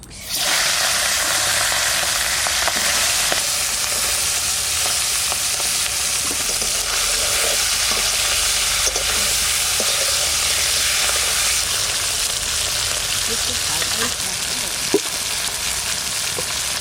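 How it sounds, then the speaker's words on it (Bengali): Tengra fish frying in hot oil in a home kitchen, a loud, dense, continuous sizzle close up with faint pops and crackles scattered through it, lasting the whole stretch without letup. "গরম তেলের মধ্যে ছাড়লে ফটফট করে ফুটবে"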